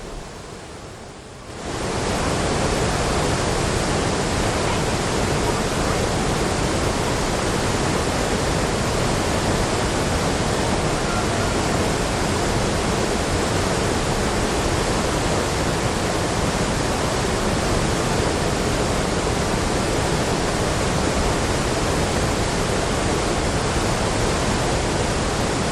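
Water of the Hermon River, dropping steeply over a short course, rushes in a loud, dense, unbroken roar that starts after a brief quiet moment and holds steady throughout.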